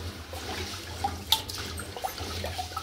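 Finger millet being swished and washed by hand in a vessel of water, soft sloshing and splashing close by with a brief louder splash, no talk.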